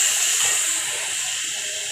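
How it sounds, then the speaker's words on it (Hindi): Water splashed into a hot pot of mash daal and mutton sizzles with a loud, steady steam hiss that barely fades across two seconds, with no voices. "इसके बाद इसमें हम थोड़ा सा पानी डाल देंगे।"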